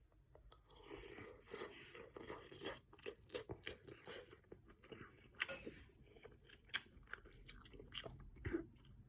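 Scallop noodles with garlic and green onion being eaten up close, a run of soft irregular bites, slurps and wet chewing sounds, fairly faint, without talk.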